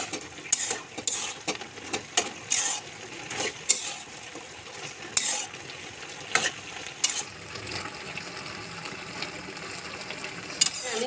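A spoon scrapes and clinks against a pan while softened spinach curry is stirred, giving irregular metallic taps and scraping strokes over a faint background hiss.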